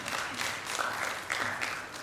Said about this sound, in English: Would you please give the panelists a round of applause?